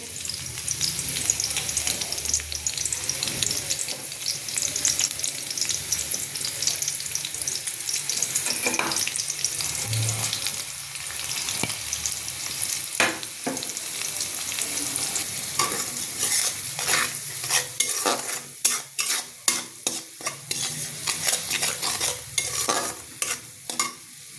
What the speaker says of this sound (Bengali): পেঁয়াজটা দিয়ে দিলাম পেঁয়াজটা রসুনটা একসাথে সটে করে নিব